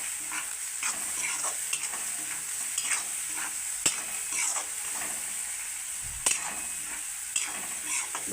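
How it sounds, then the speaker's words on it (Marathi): Dal and tomato fry in oil while a spoon stirs the pot, giving a constant close sizzle with scraping and clinking stir strokes and a few louder knocks against the pan. "याला पण परतून घेऊया तेलामध्ये फ्राय करू"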